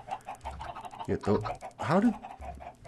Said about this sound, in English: I am going to put all the chickens. I can never have enough chickens. Clucking around.